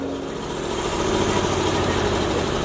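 An engine-driven electric generator drones steadily and loudly nearby, a constant low hum and vibration with no break.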